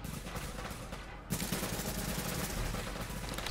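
Gunfire in the video game The Division's Dark Zone PvP, a dense burst of rapid shots filling the whole stretch, loud and continuous after a brief dip, with no talk over it.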